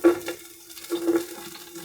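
Vegetables including carrots stir-fried in two tablespoons of oil: a close, bright sizzle with short bursts of stirring and scraping from a spatula in the pan, rising and falling over a steady frying hiss, no talk.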